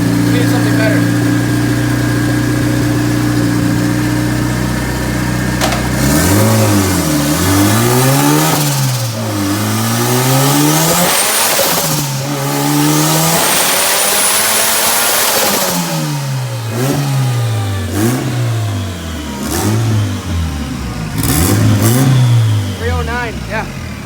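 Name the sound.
turbo all-wheel-drive Honda engine revving on dyno pass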